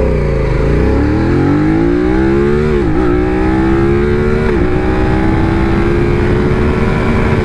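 A 2024 BMW F900R motorcycle accelerating with ABS switched off gives a loud, close engine roar whose pitch climbs, dips briefly at each gear change and climbs again, continuous for several seconds.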